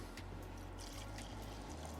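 Petrol pours in a steady, faint trickle into a container, with a low hum in the background and no talking.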